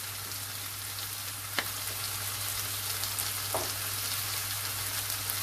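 Chicken and rice seasoned with paprika fry in a pan, giving a steady close crackling sizzle with a low hum beneath and a few sharp clicks as the food is stirred.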